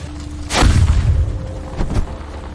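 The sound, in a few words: car overturning and exploding in a film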